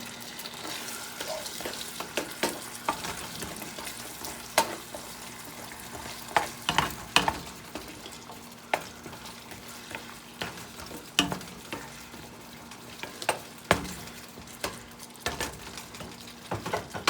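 Meatballs cooking in sauce in a pan on lowered heat, a soft steady simmer with scattered pops and the sharp clinks of a utensil against the pan, close and with no talking.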